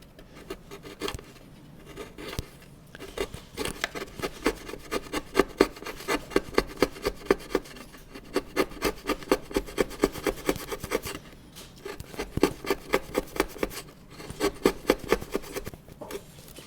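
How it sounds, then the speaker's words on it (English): A hand chisel scooping wood while carving new guitar braces for a Martin D-28, giving close, repeated rasping scrapes in rhythmic bursts with short pauses between runs. "I'm going to turn it over and use the other edge, which will allow me to do some scooping also here."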